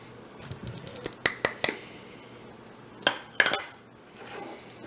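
Sharp metallic clinks of a tablespoon against a bowl while measuring cinnamon for an apple crisp: a few scattered taps, then quick clustered double clinks, close and distinct against quiet background.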